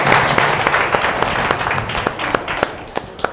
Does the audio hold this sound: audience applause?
yes